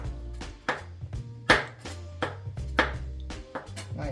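Small knife working papaya on a cutting board gives sharp, irregular taps and scraping strokes, close and fairly quiet, spaced roughly every half second with brief pauses between.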